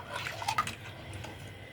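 Tamarind with sugar bubbles in a pot on the stove, a soft, close simmer of small pops and liquid gurgles, faint and continuous with no talking.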